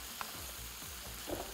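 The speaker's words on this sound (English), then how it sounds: "Just give it a good stir." Potatoes, carrots and other vegetables stirred in a pot for a chicken casserole, with faint scraping and a couple of soft knocks of the spoon against the pot under a steady low sizzle.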